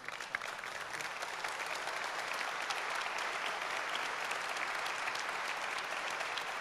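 A large keynote audience at EMC World 2015 applauds in a dense, steady wash of many hands clapping at once, sustained evenly for several seconds without letting up.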